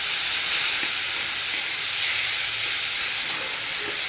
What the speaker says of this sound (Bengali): পেঁয়াজটা খুব ভালো করে একটু কালার ধরে ভেজে নেবো, খুব ভালো করে ভাজবো।